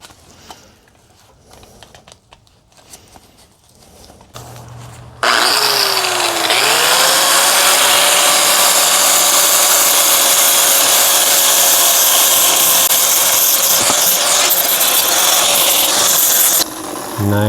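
A handheld power tool spins up and grinds burrs off a metal piece before welding, loud and close with a steady high whine for about eleven seconds before cutting off.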